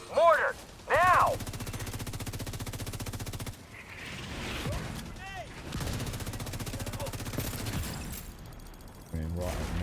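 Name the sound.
mortar fire in the video game The Division 2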